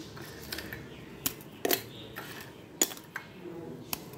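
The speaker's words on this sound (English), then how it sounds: "now I'll crush this biscuit" Oreo biscuits are crushed for a milkshake, giving a scattering of sharp clinks and crunchy taps at irregular moments over a quiet kitchen background.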